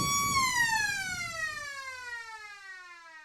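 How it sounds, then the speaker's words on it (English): A long, loud siren at an Australian football ground, ending the third quarter, wails at a steady tone, then slowly winds down and fades, with crowd noise underneath that drops away partway through. "Gets it back, and there's a siren."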